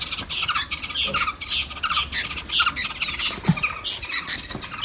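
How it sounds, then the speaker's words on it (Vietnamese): A small pet bird in a cage gives a run of sharp, shrill squawks, repeated in quick bursts close to the microphone, loud and alone with no speech. "Mình chỉ nuôi cái chim nhỏ."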